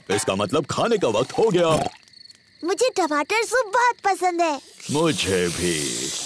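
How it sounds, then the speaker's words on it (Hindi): Cartoon insects chirp in a steady high trill at night by a campsite tent, audible in a pause and under the animated characters' talking. "ये कीड़ों की चीची आवाज है।"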